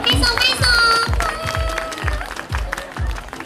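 Audience clapping at a stage event, rhythmic group claps in a steady beat along with cheering, with people talking and calling out over it.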